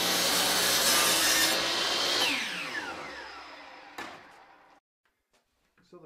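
A hand saw cuts through wood for the back piece of a bluebird nesting box, with dense rasping strokes that slow and fade as the cut finishes, followed by near silence and a faint knock.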